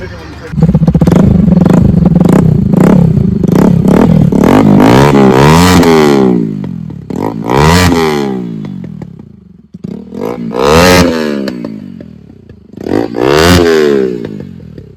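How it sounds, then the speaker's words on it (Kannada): A fully modified, tuned Bajaj Pulsar NS200 BS3 motorcycle engine revs hard in repeated loud bursts with exhaust pops, rising and falling in pitch, with short pauses between each throttle blip, close to the listener. "ಇಂಜಿನ್ ಸೌಂಡ್ ತೋರಿಸ್ತೀನಿ."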